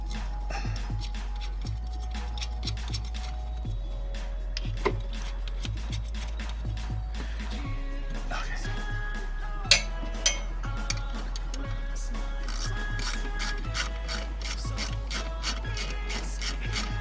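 Nut being tightened on a Type 4 engine, a run of close rapid ratcheting clicks in repeated bursts with short pauses between strokes, quickening toward the end, no talk over it.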